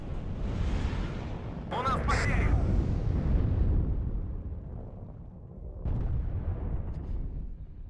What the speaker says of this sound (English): Now the grenade launcher firing away as well.